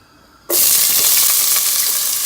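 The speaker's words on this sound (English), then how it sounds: "I'm going to add a 1/2 cup of chopped onion." Half a cup of chopped onion hits hot olive oil in a pan and bursts into a loud, steady sizzle that carries on close up with no talking.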